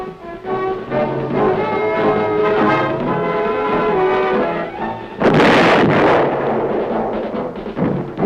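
A tank gun fires at moving targets on the Aberdeen Proving Grounds range: orchestral music plays first, then one loud, sudden blast cuts in and rolls out into a rough, rumbling tail.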